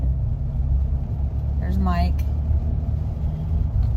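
A truck's engine rumbles low and steady from inside the cab while driving on a rainy evening, a constant droning hum beneath a brief spoken remark.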